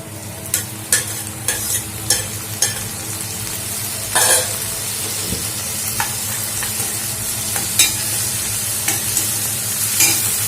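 Tomatoes sautéing in a pan for Andhra-style bitter gourd curry, with a steady broad sizzle, repeated sharp scrapes and clinks of a spoon stirring against the metal, and a low hum underneath.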